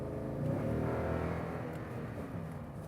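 A 2019 Toyota Tundra TRD Sport pickup hums along with a steady low engine drone and road noise, faint and even, with a slight swell early on.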